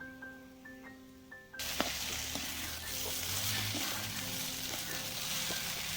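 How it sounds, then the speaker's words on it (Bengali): A short run of electronic tones gives way to a sudden loud sizzle as a little ghee goes into semolina (suji) cooking in a pan. The steady frying hiss continues with light stirring scrapes and no talk. "তো এখন আমি দিয়ে দিব অল্প ঘি এই সুজিতে।"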